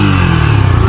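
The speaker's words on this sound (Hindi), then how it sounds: "थोड़ा एक्सीलेटर देना है यार इसका।" A Yamaha R15 V4 motorcycle fitted with a modified air filter revs in a short, loud burst, its engine droning steadily and close up.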